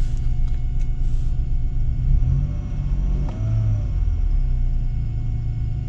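A BMW 530i engine turns over and settles into a steady low rumbling idle, close and continuous with no voices.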